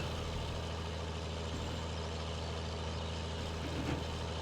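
A tractor engine idling in the Farming Simulator video game, a steady low rumble with a continuous mechanical hum, moderately loud and unchanging throughout with no talking.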